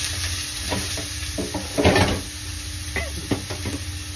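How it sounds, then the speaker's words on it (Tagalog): Ginger sautés in a pan with a steady low sizzle, overlaid with scattered clinks and scrapes of a utensil stirring, one busier burst of stirring near the middle. "Isahang gisa lang guys."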